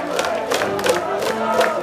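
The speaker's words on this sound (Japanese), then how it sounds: "三塁側から大きな拍手が起きます。" Crowd on the third-base side at a high school baseball game at Hachioji Stadium breaks into applause and cheering, a dense patter of clapping with rising shouts across the whole stretch.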